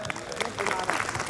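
At a Hindi comedy poetry show, an audience claps in a brief, loud, dense burst of about a second and a half, with voices mixed into the applause.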